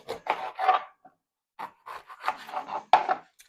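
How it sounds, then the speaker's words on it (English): A dull kitchen knife saws through a green pepper in short, rasping strokes, several quick scraping cuts in uneven bursts with brief pauses, close and fairly quiet. "Let's cut up green pepper."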